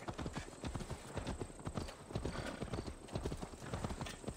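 Horse hooves galloping in the video game Assassin's Creed Valhalla, a steady rapid clip-clop rhythm at close range with no other sound over it.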